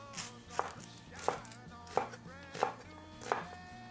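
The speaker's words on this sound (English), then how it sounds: "So I have some red chilies here, about 5 chilies. Just slice them into chunks, because we're going to be blitzing them." Five sharp knife chops at an even, steady pace as red chilies are sliced into chunks on a cutting board, heard close and clear with no talking and a low hum underneath.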